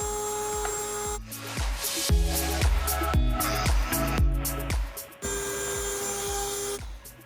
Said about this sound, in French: On va essayer de gratter le transfert là.